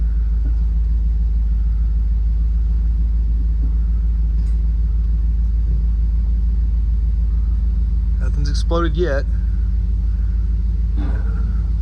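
A 1979 Camaro barn find idles high after sitting for years, a loud steady low rumble throughout, with a person speaking briefly over it near the end.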